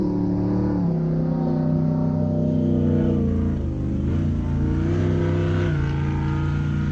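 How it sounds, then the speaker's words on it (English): A loud, steady engine drone with shifting pitch from jet boats racing on a nearby pond, continuous throughout with no voices. "they have a lot of jet boats or high-speed boats on the water"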